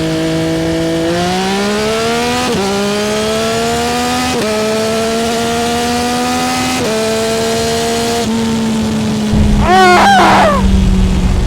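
A 2025 Yamaha R9 motorcycle with a Yoshimura full system exhaust and flashed ECU accelerates hard through several gear shifts, its engine note rising and dropping at each change, loud and close, ending in a burst of wind or rumble.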